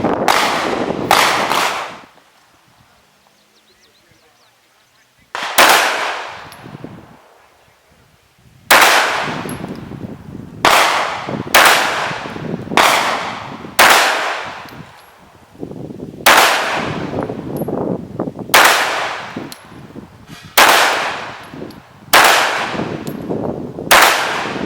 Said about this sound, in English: So I'm going to pop a mag in, take my first shots.